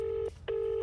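A telephone ringback tone on an unanswered call, two steady tone bursts separated by a short gap, clear and alone with no talking.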